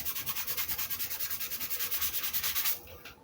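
Rhythmic back-and-forth sanding on the wooden body of a Les Paul-style guitar being built, about eight strokes per second, close and scratchy, stopping abruptly near the end.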